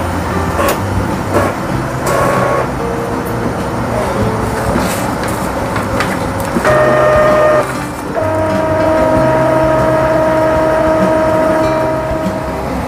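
An Epson L3150 ink tank printer printing, a close mechanical rumble with rhythmic shuttling and clicks, then steady whirring tones as pages feed through.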